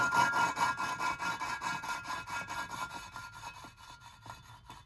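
Engine valves being lapped by hand, the valve rubbed and rotated back and forth on its seat in a fast steady rhythm of gritty scraping strokes, close and fairly quiet, softening toward the end.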